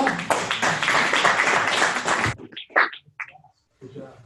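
Applause from an audience at a company sales meeting, dense and loud for about two seconds, then breaking off into a few scattered claps and brief talk.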